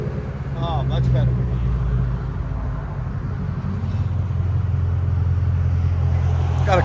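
A 2009 Hyundai Genesis 4.6L V8 with X-pipe and straight-pipe exhaust idles with a steady deep rumble, close and continuous, while people talk over it.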